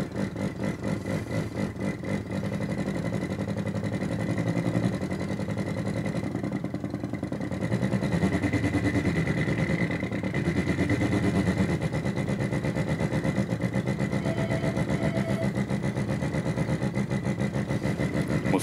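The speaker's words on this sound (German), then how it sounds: "Wie bei einer Harley." Slow, deep Harley-style idling engine sound synthesized with a function generator, a steady low pulsing throb that runs loud and continuous throughout with no voices.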